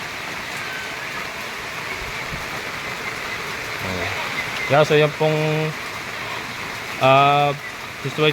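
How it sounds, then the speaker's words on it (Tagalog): Steady, heavy typhoon rain hisses continuously, while a few short voiced sounds, some like goat bleats, rise briefly over the downpour. "Walang tigil ang ulan mula kagabi pa."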